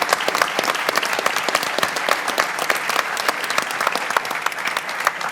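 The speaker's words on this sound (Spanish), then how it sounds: "podríamos hacer un aplauso por todo el equipo" A conference crowd at an agriculture panel applauds for the whole team, many hands clapping loudly and steadily in a continuous, sharp patter without pause.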